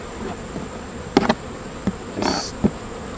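Honeybees buzz around an open, hungry beehive, with a steady low hum and a few louder wingbeat bursts as individual bees fly close past.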